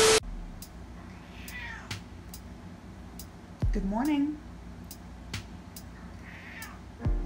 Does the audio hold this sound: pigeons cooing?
no